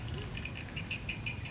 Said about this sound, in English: You can hear the birds, the rain, the wind.